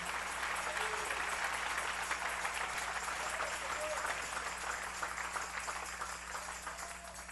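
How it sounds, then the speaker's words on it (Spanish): A church congregation applauds during an evening service, a dense sustained wash of clapping with some voices mixed in, steady at first and then gradually thinning toward the end. "Dale ese aplauso al Rey en esta linda y preciosa noche."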